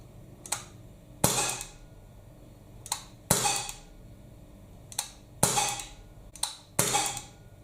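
A Gamo C15 CO2 blowback pistol fires seven sharp semi-automatic shots, loud and close, in uneven pairs with a clacking slide action and short gaps between them.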